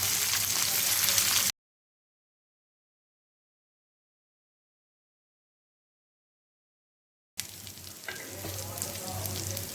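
Prawns frying on a hot tawa, a close, steady oil sizzle in two stretches separated by a long silent gap.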